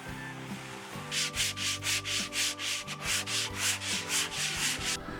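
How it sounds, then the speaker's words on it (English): An oak slab is sanded smooth with sandpaper in rhythmic back-and-forth strokes, a steady series of close, rasping swishes played over quiet background music. "I thought it would be a good idea to just sand everything smooth"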